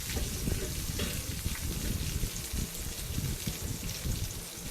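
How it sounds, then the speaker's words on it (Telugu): Curry seasoning for cucumber chutney sizzles steadily in hot oil in a pan, a constant close crackle and hiss with no voices. "ఇవన్నీ వేగిపోతున్నాయి"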